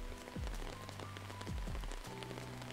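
Steady rain falls in an audiobook scene, a dense even patter of drops on surfaces with soft tonal background music and low swooping tones layered over it, moderately quiet, with no voice.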